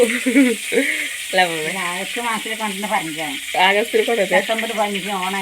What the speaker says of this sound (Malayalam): അപ്പോൾ കടുക് പൊട്ടി തുടങ്ങിയിട്ടുണ്ട്